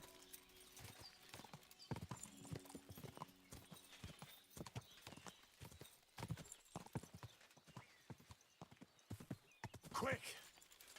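Horse hooves clip-clop steadily in the medieval game Kingdom Come: Deliverance II, close and rhythmic, with occasional whinnies and game sounds layered over them and talk heard over the hoofbeats.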